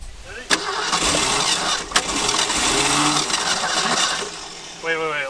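An abandoned truck's engine cranks and catches after sitting 12 years, with sharp bangs from the exhaust and then a loud, rough running roar. Voices talk over it near the end.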